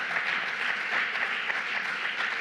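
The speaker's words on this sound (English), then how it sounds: "I would like if we can clap them because they have done an enormous" Conference audience applauding the organisers of a European science diplomacy event, a steady dense wash of clapping from many hands, moderately loud and unbroken, with no talking over it.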